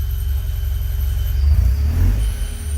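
A 1974 Alfa Romeo rolls a few feet under its own power in reverse on its first test drive, its engine a steady low rumble that swells slightly midway, with no talking.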